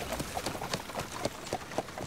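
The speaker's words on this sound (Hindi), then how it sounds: "क्या जबरदस्त घोड़ा है उमर।" Horse hooves clip-clop in a steady, evenly spaced rhythm of sharp knocks over a noisy outdoor background, fairly close, with no talk over them.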